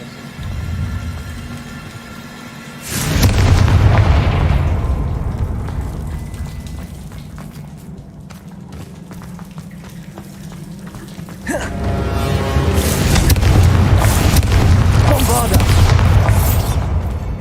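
Booming blasts of the Confringo explosion spell in Hogwarts Legacy, two loud bursts each trailing into a long rumbling, crackling decay, with game ambience between them.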